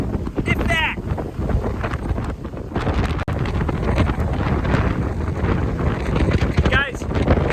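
Strong hurricane wind batters a Florida beach, roaring in constant heavy gusts and buffeting the microphone, with a voice briefly heard under the blustery rush.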